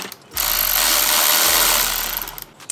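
A tool tightening a clamp on a custom open air intake of an MK8 Golf R gives a loud, close buzzing mechanical whir in two sustained bursts with a brief gap between them, no talking.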